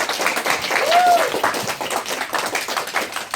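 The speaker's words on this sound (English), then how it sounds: "Give them a round of applause, everyone!" Fifth graders in an elementary school classroom clap in a steady, dense patter of many small hands throughout, close and fairly loud, with a brief whistle-like tone partway through.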